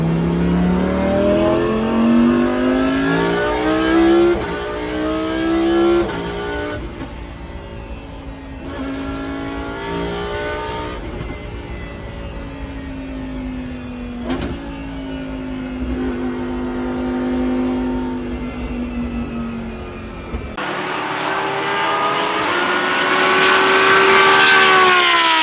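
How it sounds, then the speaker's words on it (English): Onboard a Lamborghini Super Trofeo race car on parade laps, the engine drones loudly and continuously, pitch climbing and falling through repeated gear changes, then building to a strong rising rev at the end. "I've never been in that kind of car, so I'm going to insert that clip here so you can see and get an understanding of what it's like to be inside the Super Trofeo."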